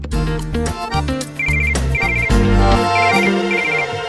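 A melodic telephone ringtone plays loud and close, a repeating synthetic tune with layered tones that carries steadily through without any voices over it.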